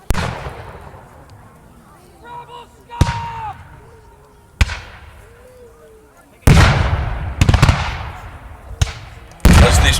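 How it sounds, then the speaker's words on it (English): Revolutionary War reenactment troops fire muskets in volleys: a few sharp scattered shots early, then louder ragged bursts of overlapping cracks with echoing tails, and a voice talking in between. "As these troops fire, you can see the smoke I was talking about earlier"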